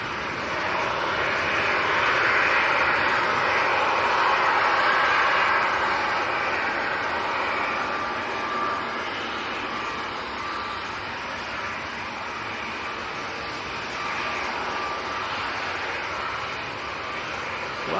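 A Ryanair Boeing 737-800 jet arriving at Manchester Airport in windy conditions produces a loud, steady engine roar that swells slightly early on and then holds, with wind noise underneath.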